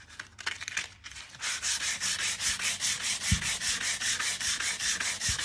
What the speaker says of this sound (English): the more you sand, the more the colors of your terrazzo is going to show through.